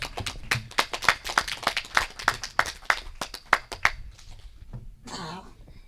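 Small group at a cooperative's annual member meeting claps for newly elected board members, about a dozen distinct, fairly close hand claps in a loose rhythm fading out after four seconds, followed by a brief rustle.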